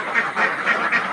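Ducks on a farm struck by duck plague, quacking in a loud, close, continuous chorus with rhythmic pulses.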